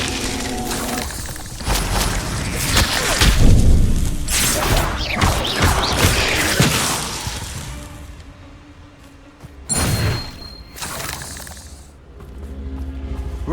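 Confringo spell cast in Hogwarts Legacy, a loud blast of crashing, shattering impacts with whooshes and debris rumble, followed by a quieter stretch and another sharp burst.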